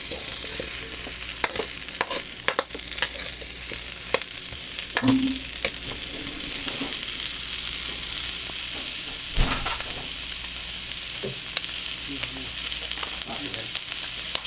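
A second pour of coconut milk hits cooking vegetables for ginataang gulay, giving a soft, steady sizzle with occasional stirring scrapes, fairly quiet and continuous.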